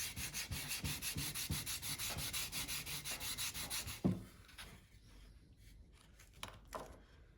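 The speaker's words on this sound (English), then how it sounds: "I'm finishing up the prep work on the roughed in body with 120 grit sandpaper, just smoothing things out." A carved wooden bird body is sanded with 120 grit sandpaper in a quiet workshop, with steady rhythmic rasping strokes for about four seconds, then a clunk and a few scattered light scrapes and handling sounds.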